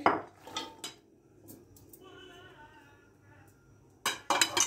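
Lentils, onion and carrot tipped into a cooking pot on a gas stove, with clattering clinks of metal and dishes at the start and again at the end, and a quieter stretch between.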